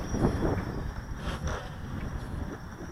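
Wind buffets a small flying quadcopter drone high in a breezy sky, producing a constant rough rumble with gusty swells and no speech.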